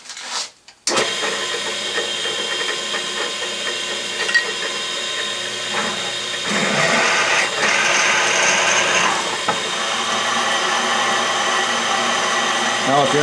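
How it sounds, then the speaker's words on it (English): Drill press boring a 1/4 inch tap drill hole through a workpiece held in a vise, a sustained mechanical whir and grinding hum lasting many seconds after a short start, loud and close with no talk over it. "I'm going to drill at 1/4 inch, which is the tap drill size,"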